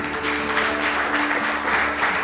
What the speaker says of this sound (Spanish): dale un aplauso como Él se lo merece